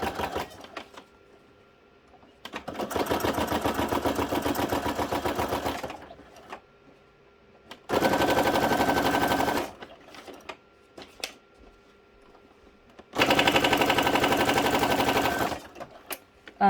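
A sewing machine stitches through thick carton on a craft table in three loud, rapid runs, each lasting a few seconds and separated by short pauses, with no talking.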